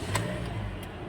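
A Toyota car's engine turns over and starts on a freshly cut replacement key, a steady low mid-range rumble running through the short moment with a faint high click near the start.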